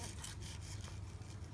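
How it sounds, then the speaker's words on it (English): Sandpaper rubbed by hand along metal edges during an iMac 2011 upgrade, a soft, fairly fast back-and-forth scratchy rasp, quiet and close, with no talk. "I was putting sanding paper like this"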